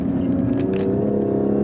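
Tuned 2018 BMW M240i with the B58 engine, downpipe, fuel pump and tune, a loud steady close-up engine drone pulling under acceleration, with no voices.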